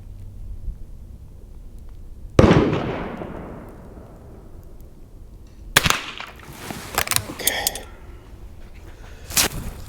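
A Marlin 39A lever-action .22 rifle fires outdoors: one sharp, loud report with a long fading echo, then another crack a few seconds later, followed by quieter clicks and handling noises.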